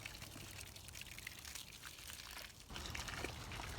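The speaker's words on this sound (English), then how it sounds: "I'm gonna go turn on the hose, I'm gonna wet this down" A garden hose runs steadily, soaking a moringa air layer outdoors, a continuous broadband rush of water that swells louder partway through as the flow hits the wrapped branch.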